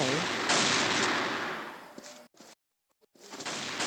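Gunfire in the CrossFire video game: a near, loud burst of rapid shots, then a brief dropout to silence, then more firing, with a voice heard briefly among the shots.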